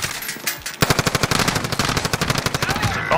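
Submachine gun fire in the video game Call of Duty Warzone, a fast, loud automatic burst of evenly spaced cracks starting after a moment of softer background and running steadily to the end.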